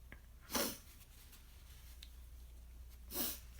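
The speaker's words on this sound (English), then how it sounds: "I don't mean to keep sniffling and wiping my nose" A person with allergies sniffles twice, about three seconds apart. Each is a short, close nasal intake over a quiet room hum.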